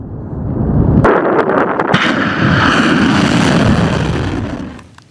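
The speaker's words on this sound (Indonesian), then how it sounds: "Sebuah ledakan besar mengguncang permukiman dan membuat sejumlah bangunan rusak." Explosions from an Iranian missile strike on a residential area in Israel: a loud, continuous, rumbling roar with several sharp cracks and bangs on top that holds steady for seconds before dying away at the end.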